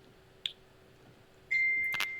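A mobile phone gives two short notification dings, a faint chime followed a second later by a louder, sustained tone, heard over quiet room background.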